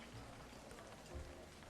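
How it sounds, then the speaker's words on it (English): Steady rain patters on concrete in a soft, even wash of fine drops, quiet and continuous, with no voices. "the rhythmic patter of the raindrops as they hit the concrete"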